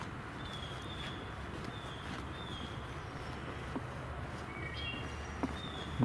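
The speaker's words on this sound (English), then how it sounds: "Hearing a wood thrush again, maybe the same one calling." A wood thrush calls in the distance, several faint, high, fluting phrases spaced a few seconds apart over a constant hiss of outdoor background noise.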